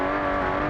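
A video game race car, a Baja competition buggy, drones at full throttle with a steady buzzing engine tone, loud and close for under a second.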